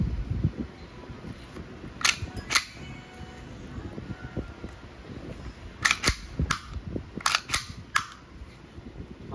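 A WE airsoft Glock 23 Gen 4 fires close up, with sharp single snaps on semi-auto and short rapid bursts on full auto, spread across about nine seconds with quiet handling between them.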